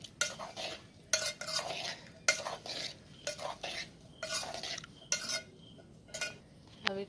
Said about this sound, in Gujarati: કેટલાક ચમચાથી હલાવે.